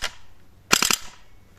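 A J.G LK58 airsoft rifle with electric blowback fires a short full-auto burst of about four rapid, loud, close snapping shots, preceded by a single brief click.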